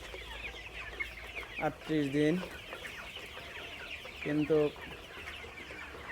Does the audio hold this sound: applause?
no